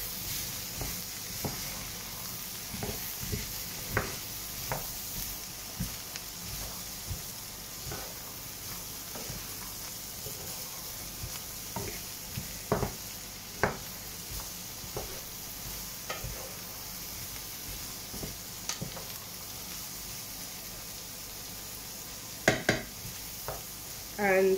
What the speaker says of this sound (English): And pepper. Give those a good stir.